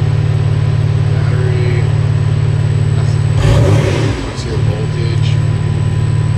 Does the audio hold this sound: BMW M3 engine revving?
yes